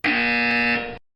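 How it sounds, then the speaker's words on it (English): A harsh electronic buzzer sounds as a single steady, loud tone lasting about a second before cutting off abruptly, heard alone without any voices. "You will hear a buzzer."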